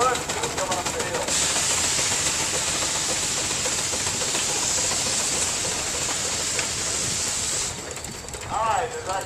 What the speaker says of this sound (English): 1924, 25 horse Russell steam engine